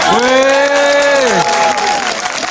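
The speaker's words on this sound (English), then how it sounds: "Can we give them a big applause?" A crowd at an outdoor Kew Gardens stage show applauds and cheers for the Lionesses, loud and close, while a sustained, falling, voice-like tone sounds over the clapping in the first half.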